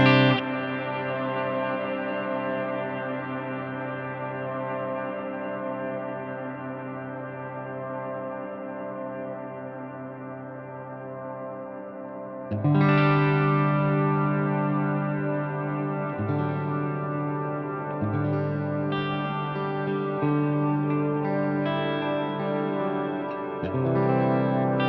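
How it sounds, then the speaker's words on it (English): Guitar through a Wampler Ethereal reverb/delay pedal set to a droning reverb rings out in long sustained chords, with a second chord struck midway and further swells washing over one another, loud and alone. "we'll make it just kind of a droning style reverb"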